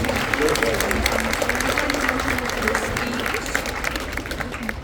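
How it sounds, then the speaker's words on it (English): Steady applause from the audience at a freshman academy wind ensemble spring concert, continuous clapping that stays fairly loud across the whole stretch, with voices mixed underneath. "Let's give them one more round of applause."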